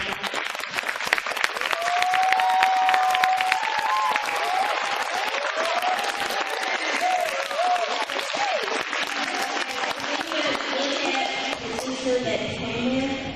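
An awards-ceremony audience claps and cheers for an officer at the E.A.G.L.E. Awards. Sustained, full applause runs throughout with scattered whoops and raised voices riding on top.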